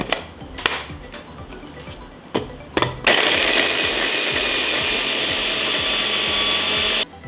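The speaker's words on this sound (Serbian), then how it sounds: "Sada ću u blenderu usitniti 20 čenova belog luka" Garlic cloves, twenty of them, get chopped in a blender: a few sharp clacks and taps, then a loud, steady motor whir for several seconds before stopping abruptly.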